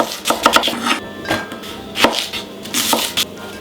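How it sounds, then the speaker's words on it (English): A knife chops an onion on a board, not too finely, for a budget tartiflette: close, loud, uneven runs of crisp thuds with short pauses between bursts and no speech. "Next one in 2 and not too finely chopped."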